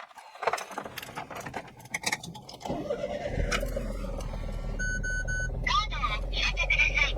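A Honda Z UM4 turbo 4x4 kei car with a mid-mounted engine starting: key jingles and clicks, then the engine catches into a steady low idle, followed by chiming warning beeps.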